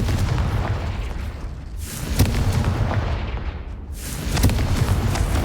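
Fiery Confringo spell blasts from the Hogwarts Legacy game, two heavy booming explosions with rumbling tails, loud and close, with no talk.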